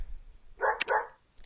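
Dog barking in the Criminal Case game, a single short two-part bark, clear and close, standing alone against quiet.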